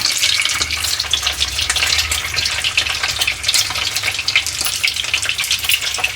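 Slit boiled eggs fry in hot oil with a loud, dense, close sizzle and rapid spattering crackle that runs throughout, with no talking.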